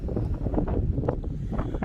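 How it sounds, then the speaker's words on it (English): Strong wind buffets the microphone in a continuous low rumble, gusting unevenly throughout. "And it's windy."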